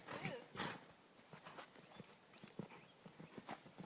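Soft, rhythmic hoofbeats of a horse loping in a Barbie video game patter along at a smooth, even pace, faint and low in level.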